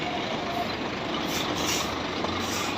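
A large truck reverses up a ramp, a steady engine drone with hissing air noise and a faint repeating reverse beep, continuous and fairly close.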